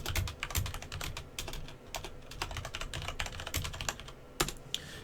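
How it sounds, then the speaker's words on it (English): Rapid clicking of keys on a computer keyboard, irregular bursts of typing close to the microphone, fairly quiet. "I'm gonna type simultaneously as I talk for now"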